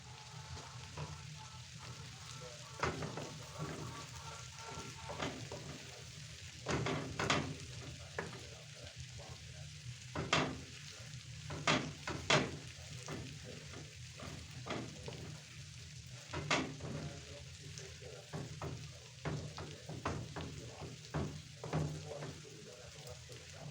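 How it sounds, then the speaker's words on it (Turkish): Food roasts in a pot on a village stove while being mashed, giving a low, steady frying hiss punctuated by irregular clacks and scrapes of the mashing utensil, close by and fairly quiet. "Böyle kavruldukça eziyorum ki özlenince daha lezzetli oluyor."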